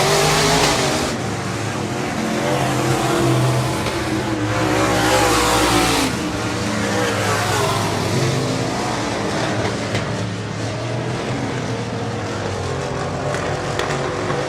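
Race cars roaring around Cotton Bowl Speedway on the final lap of a heat race, loud continuous engine drone swelling and fading as cars pass, with crowd and track ambience throughout.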